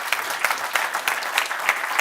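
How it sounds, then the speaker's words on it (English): Conference audience applauding panelists at a Jammertest 2024 findings session, a steady dense patter of many hands clapping throughout, fairly close and even in level, with no talking over it. "So if we could get a round of applause for our panelists."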